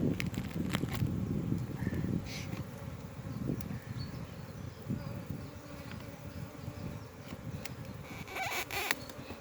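Honey bees buzz steadily around an open hive during an early summer inspection, a dense close drone with scattered knocks and scrapes of hive parts being worked, and no talking.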